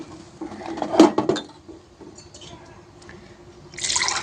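A mixer jar is rinsed with water, a clatter of the container around the middle, then quieter handling and a rush of running water at the end.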